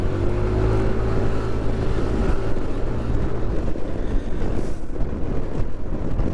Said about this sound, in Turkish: deli bir rüzgar var.